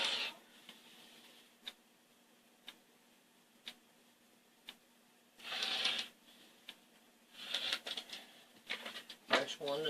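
Fabric being cut into pieces for a jar-pattern quilt-as-you-go project, heard as sparse sharp ticks and snips with a few denser bursts of rustling cloth handling, close and fairly quiet.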